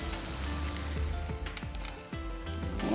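Chopped onions with ginger and garlic sizzle steadily while sautéing in a pan for a fish biryani, a continuous close frying hiss with occasional stirring scrapes, no voices.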